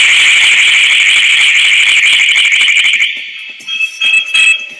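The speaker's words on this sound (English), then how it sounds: "So it basically picks up any movement inside the car, which will set the alarm off." Car alarm set off by an ultrasonic interior motion sensor, a loud, piercing, continuous electronic siren for about three seconds before breaking into shorter chirping bursts, heard close up.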